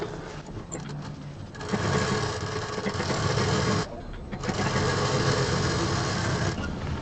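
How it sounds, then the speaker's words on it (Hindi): A sewing machine runs close by as it stitches a quilted handbag and zip, making a fast, steady chatter in two long bursts split by a short pause. "यहाँ से डबल मशीन चलाते हुए इसको यहाँ से लाते हुए इसको नीचे तक पूरा सीधे सिल देंगे"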